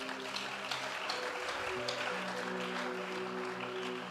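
A congregation applauds during a sermon. The clapping is faint, steady and continuous, and it runs over a sustained musical tone.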